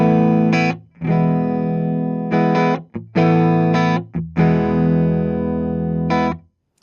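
Electric guitar played through a Fractal VP4 effects unit into an Orange Rockerverb 50 head and a 2x12 cabinet mic'd with two SM57s, loud distorted chords struck in several sustained bursts with short gaps and a reverb tail.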